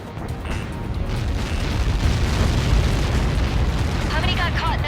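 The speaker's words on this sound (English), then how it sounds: "How many got caught in that explosion?" A missile impact explosion in the combat flight game Ace Combat 7, heard as a sustained, loud, roaring blast rumble that swells and holds, with a radio voice breaking in near the end.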